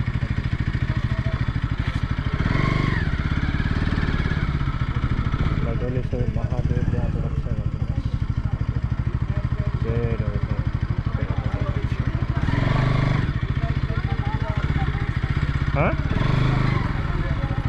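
A motorcycle engine idles steadily nearby near a Mahadev temple, a constant mid-pitched chugging drone that runs throughout while people talk over it.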